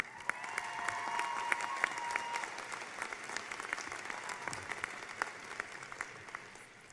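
Audience applause at a Drake University fall 2018 commencement welcomes a student speaker receiving a Doctor of Education in leadership, a steady, sustained wash of many hands clapping at moderate distance that thins and fades toward the end.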